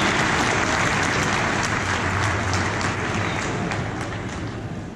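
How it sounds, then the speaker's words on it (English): Sustained applause from a large crowd at a state Republican Party organizing convention, dense steady clapping that fills the hall for several seconds and slowly tapers, with no talking over it. "give yourselves a round of applause"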